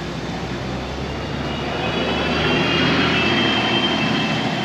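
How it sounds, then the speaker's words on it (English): A diesel-electric hybrid city bus passes on a street in Magaluf, Mallorca, its engine giving a steady broad roar that swells gradually as it draws near, with no talk. "It's a hybrid electric bus."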